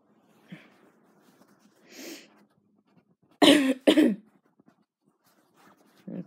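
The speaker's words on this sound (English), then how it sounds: "She's coughing again" Two sharp, loud coughs in quick succession, with a few quieter breathy sounds and softer coughs before and after.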